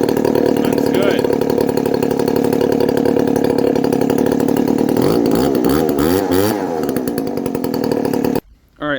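The small two-stroke engine of a weed whacker or leaf blower, freshly fitted with new fuel lines and filter, runs loud and close with a buzzing idle that rises and wavers in revs, then cuts off abruptly near the end.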